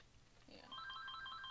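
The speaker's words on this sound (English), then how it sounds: "Oh gosh, the phone!" An electronic telephone in a video game rings with repeated warbling high-pitched trills that start partway through and continue steadily, clear and moderately close, with no talking.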